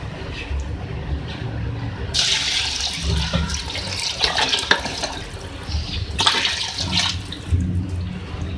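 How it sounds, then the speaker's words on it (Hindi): Chicken stock (yakhni) is poured into a pot of rice pulao, giving a continuous splashing, gurgling liquid rush. The pouring swells and eases several times over several seconds and is heard alone, with no voices. "इसके बाद मैं इसमें ऐड करूँगी यखनी"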